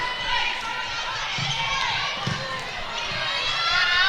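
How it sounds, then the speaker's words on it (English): Netball crowd at a WA preliminary final, a steady din of shouting and cheering voices from spectators seated close behind, continuous and fairly loud throughout with occasional ball thuds beneath. "You hear plenty of advice too coming from the crowd behind us."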